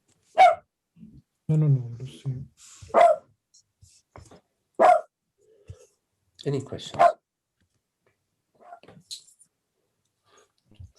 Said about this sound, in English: See, the dog has a question.